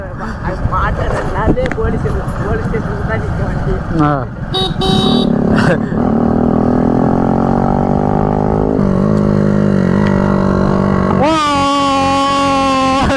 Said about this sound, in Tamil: 400 ரூபாய் சைலன்ஸ் இருக்குது, இந்த சவுண்டு வருது.